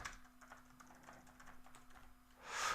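Quiet, quick keystrokes tap on a computer keyboard in a steady irregular patter as names are entered, close and soft, ending with a brief louder rustle.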